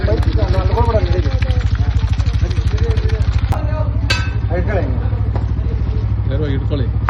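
A motorcycle engine idles nearby with a steady, low, throbbing rumble at night during a snake rescue, while someone talks loudly over it the whole time.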